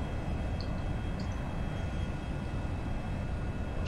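Steady broadband rumble of a Cirrus Vision Jet in the X-Plane 11 flight simulator as it floats down the runway before touchdown, with continuous engine and wind noise and no voices.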